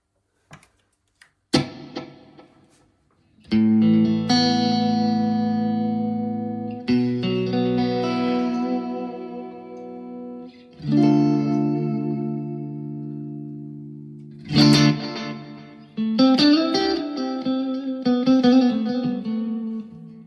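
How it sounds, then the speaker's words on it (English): Electric guitar chords ring out through a tube amp with lush reverb and echoing delay, notes sustaining and trailing off between sparse strums. "If we add some reverb and some delay"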